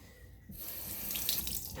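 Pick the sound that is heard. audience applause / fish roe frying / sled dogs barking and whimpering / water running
water running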